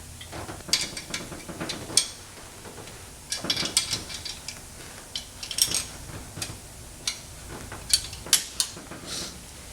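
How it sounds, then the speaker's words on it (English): Repeated ratchet clicking in short bursts with pauses between as header bolts are tightened on a Ford 302 small block in an F100, close up and fairly loud, no voices. "So when I tighten down header bolts, I go over them 3-4 times"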